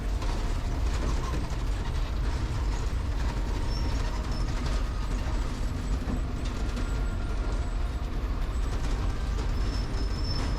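A KSRTC bus climbing a winding hill road through Attappadi rattles and creaks with a steady close engine drone, clanking mechanical knocks and loose fittings rattling throughout, with no voices.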